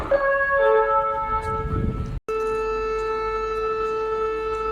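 An air raid siren sounds in Poltava, Ukraine, a sustained tonal wail with steady harmonics that cuts out briefly in the middle and then resumes at a constant pitch.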